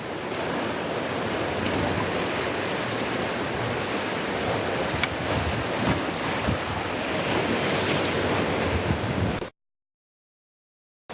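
Sea waves break and wash continuously at a shore fishing spot, a loud, steady roar of surf mixed with wind buffeting the microphone, cutting off abruptly near the end.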